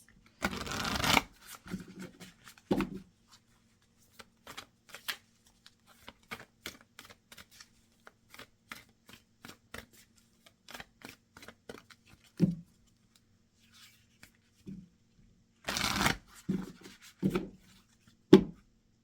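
Tarot cards being shuffled and pulled during a new moon reading: bursts of papery riffling and soft card slaps, loudest near the start and again around sixteen seconds, with sparse light taps between and no talk.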